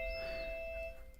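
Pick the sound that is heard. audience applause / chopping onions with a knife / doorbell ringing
doorbell ringing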